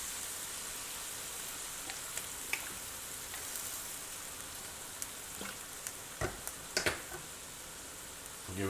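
Shrimp with cilantro and lime juice sizzles steadily in a hot pan, a constant soft frying hiss broken by occasional clinks and scrapes of stirring.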